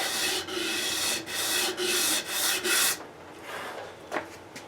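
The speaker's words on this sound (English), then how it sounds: "So I just rub that against the disc." A guitar nut is rubbed by hand against a sanding disc, making several loud, rasping strokes in a steady rhythm that then stop, followed by fainter handling noises.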